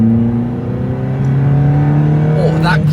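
A supercharged Vauxhall Corsa engine revs steadily with a deep droning tone, grunting around 4,000 RPM, then climbs sharply near the end with a rising whine.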